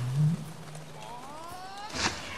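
Butterflies in the video game The Last Tinker City of Colors make odd creature sounds: a low growling tone at the start, then faint rising warbling whistles, ending in a brief noisy burst over quiet game ambience.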